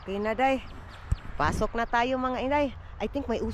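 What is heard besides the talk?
No distinct noise like a dog, phone or traffic.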